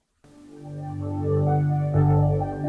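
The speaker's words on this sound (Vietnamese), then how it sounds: "mình sẽ test âm thanh của con Gen 2 này cho mọi người nghe nhé." Pop song with vocals played on a B&O Beosound A1 Gen 2 Bluetooth speaker, starting abruptly from silence and building to a full, steady mix with sustained tones and a rise near the end.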